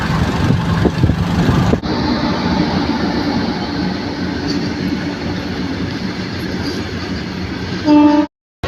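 A passenger train rolls along with a loud, steady rumble and rattle of carriages heard from on board, the noise shifting after a jolt early on and ending with a short tonal squeal.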